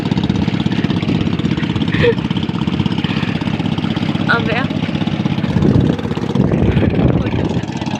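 A boat engine runs close and steady, a low rumbling drone that continues throughout under brief spoken words.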